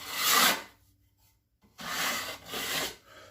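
A putty knife spreads compound over holes in drywall in two or three close, raspy scraping strokes separated by short pauses.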